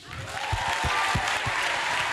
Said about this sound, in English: One more round of applause for Anna Malago